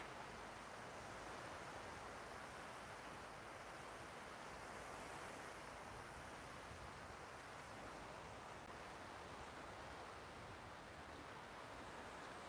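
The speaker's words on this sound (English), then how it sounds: "waves roll ashore on the beach." Waves roll ashore on a beach at Hua Hin, a constant broad wash of surf with no distinct breaks, heard at a distance under wind-like noise and without talk.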